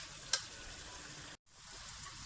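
Onion, garlic and ginger masala frying in a pan for a spicy chicken kofta, a steady close sizzle that continues throughout, with one sharp click or pop early on and a brief dropout near the middle.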